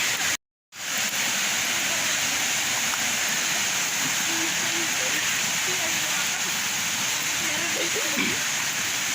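The Balantak Falls waterfall in Basey, Samar gives off a continuous broadband rush of falling water, steady and fairly close, with faint voices underneath after a brief dropout at the start.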